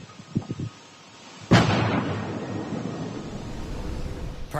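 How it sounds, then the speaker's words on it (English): A sonic boom over Arlington hits as one sudden, heavy bang after a few faint bumps, then rolls into a long rumbling tail that fades slowly, loud and with no one talking. "Perhaps you were one of the many who heard that thunderous boom shortly after 2 o'clock this afternoon."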